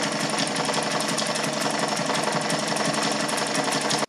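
A German-made Kenmore 117.841 sewing machine stitches a zigzag at a steady speed, giving a fast, even mechanical clatter close by for about four seconds before stopping abruptly.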